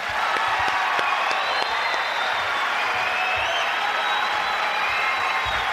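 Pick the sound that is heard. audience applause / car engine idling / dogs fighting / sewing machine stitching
audience applause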